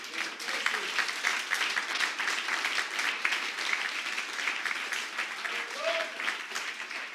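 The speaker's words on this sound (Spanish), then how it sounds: "Si quiere, darle un aplauso al rey, si puede." A church congregation claps in a sustained round of applause during a Spanish-language sermon, dense and even for several seconds, with faint voices mixed underneath.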